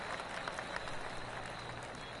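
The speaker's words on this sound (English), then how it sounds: "I can hear the golf claps around the course" Steady golf crowd applause in a golf video game, scattered clapping forming a continuous wash of hands at moderate distance, no voices standing out.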